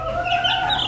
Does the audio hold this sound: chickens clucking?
yes